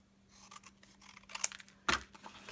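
Scissors cut through paper for a December Daily craft page, a quick run of close crisp snips building to one sharp louder cut near the end, with no talking.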